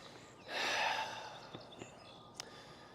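A dog out on a walk sniffs with a single breathy, snorting rush of air near the microphone, followed by a few faint clicks and quiet rustling.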